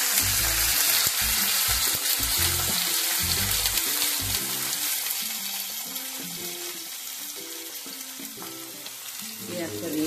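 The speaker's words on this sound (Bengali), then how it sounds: "পেঁয়াজটা দিয়ে পেঁয়াজটা নেড়ে নিলাম।" Diced onion hits hot oil in a pan and is stirred, a loud continuous sizzle punctuated by scraping spoon strokes that gradually softens.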